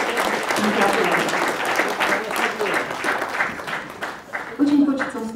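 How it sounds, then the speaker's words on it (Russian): An audience at a festival applauds honoured mothers, giving sustained, fairly loud clapping from a crowd with some voices mixed in and a brief dip before it swells again. "Поэтому еще раз аплодисменты нашим золотым мамам."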